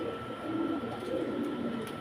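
A pair of pigeons kept for sale coo with a low, continuous murmur, steady and fairly close, with no other sound standing out.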